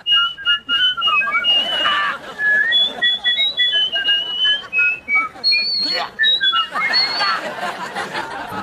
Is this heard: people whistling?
yes